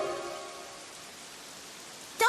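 Steady rain falls in an animated cartoon, a soft continuous hiss with a faint tonal layer fading early, ending in a sudden brighter burst.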